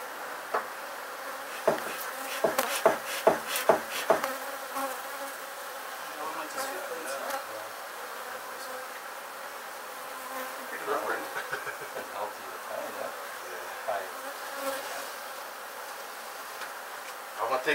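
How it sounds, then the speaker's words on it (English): Honey bees from a bee removal buzz steadily in a dense swarm, close and continuous, with sharp knocks and taps early on and people talking intermittently beneath the hum. "They're not freaking all flying all over the creation."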